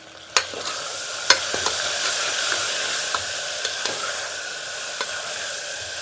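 Tomato frying in a pan with onion and garlic, a continuous close sizzle punctuated by several distinct clicks and scrapes of a spoon stirring against metal, no talking.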